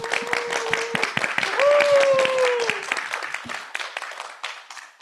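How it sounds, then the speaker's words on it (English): Applause from an audience at a training gathering, with scattered claps over which a voice is audible, holding steady for several seconds before thinning out. "round of applause, everyone"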